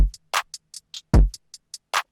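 Punchy distorted kick drum from the Icy Twat kit in a trap beat: a short pattern of booming kicks interleaved with crisp hi-hat and snare-like hits, loud and dry.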